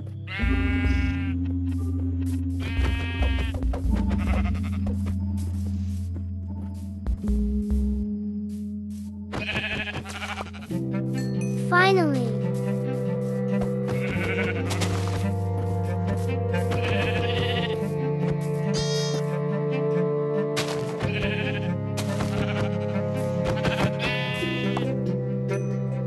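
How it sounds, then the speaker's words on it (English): Minecraft sheep, including a lamb, bleat repeatedly over steady background game music, with several overlapping calls of different pitches, including higher, thinner bleats. A voice briefly speaks. "Oh, sheep and one baby sheep."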